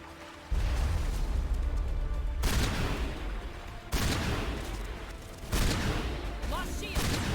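Heavy gunfire in Mass Effect Legendary Edition, sustained bursts of rapid shots in several loud blocks separated by brief pauses, with booming low impacts.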